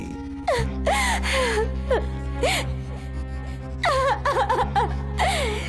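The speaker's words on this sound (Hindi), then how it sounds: "अचानक उसे किसी औरत के रोने की आवाज सुनाई दी" A woman cries and wails in a horror story scene, with repeated sobbing, gasping cries rising and falling over a low sustained drone, quiet in the middle and intensifying toward the end.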